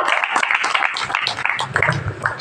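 A church congregation claps together in praise, a dense, continuous patter of hands filling a short stretch at close range.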